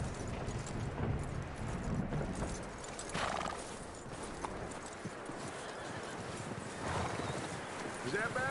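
A horse in the Red Dead Redemption 2 video game whinnies and its hooves clip-clop in a steady walking rhythm, close by, with some speech mixed in.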